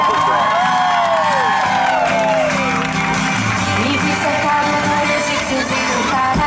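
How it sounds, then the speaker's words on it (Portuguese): A party crowd in Cangaiba, Penha cheers and whoops loudly at a birthday surprise, with shouting and clapping filling the whole stretch and voices calling out over the din. "Uma salva de palmas para ela."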